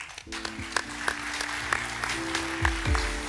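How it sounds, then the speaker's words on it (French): Brief, moderate applause from an audience after a talk on work and employment by Séverin Naudet, with scattered distinct claps over a low hum and tonal background sound. "On peut l'applaudir."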